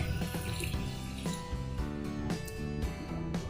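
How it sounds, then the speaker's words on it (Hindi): Half a glass of water is poured into a pan of stuffed karela masala, a steady splashing, gurgling pour that runs close and continuous throughout. "अब डालेंगे हम इसमें आधा ग्लास पानी, जिससे इसके बीज और छिलका अच्छे से कुक हो जाए"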